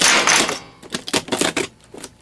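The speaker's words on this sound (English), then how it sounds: "That was my knife falling apart because I still haven't fixed it for some reason." A dull utility knife rattles and clacks as it comes apart while opening a cardboard box, a burst of scraping followed by several quick, close plastic clicks and taps.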